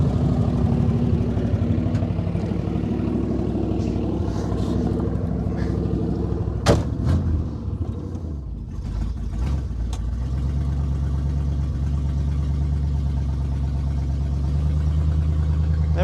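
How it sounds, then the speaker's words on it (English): A 1968 Buick LeSabre convertible, a barn find with a freshly rebuilt carburetor, runs with a loud, steady engine drone and a brief clunk midway, then settles into a smoother, lower idle. "we are driving the 1968 Buick Lesabre Convertible for the first time"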